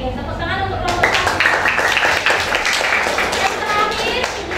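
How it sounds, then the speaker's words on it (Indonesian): Applause from a classroom audience for a student group's presentation during an academic supervision session, a few seconds of dense, fairly loud clapping that starts abruptly, with some voices mixed in. "Oke, tepuk tangan untuk kelompok 1."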